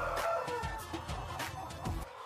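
Hens on a poultry farm, a laying strain bred over years for heavy egg production, cluck and squawk in a busy overlapping chorus, close and fairly loud, with no talking.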